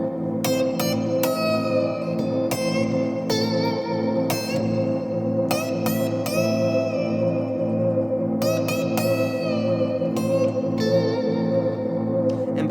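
Clean electric guitar drenched in reverb and echo plays a slow bluesy pentatonic line with sustained plucked notes ringing over a steady backing, each attack trailing off into a long, washy tail.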